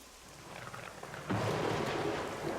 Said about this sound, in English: The rain is helping,